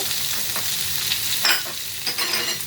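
Green chillies, turmeric and salt frying and being stirred in a pan, giving a steady close sizzle with scraping stir strokes throughout.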